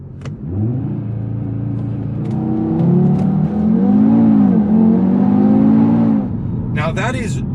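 A 2019 Audi TT RS with a 2.5-litre five-cylinder engine makes 400 PS through four-wheel drive, heard from inside as a loud, steady rising engine drone under someone talking, ending with a brief hiss.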